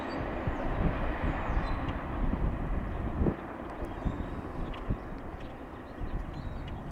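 Train passing near the CP39 Eastern Signal Tower, beside a parked welded rail train: a steady broadband rumble and rolling clatter with a few louder knocks, continuous throughout.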